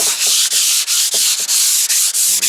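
Sandpaper rubs over undercoat paint on a wooden casement window frame, a loud rhythmic rasping of repeated short strokes with brief pauses between them, close up and with no talking.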